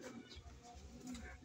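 Pigeons kept by a fancier coo softly in a loft, low murmuring calls repeating over a steady background hum, fairly faint and close by.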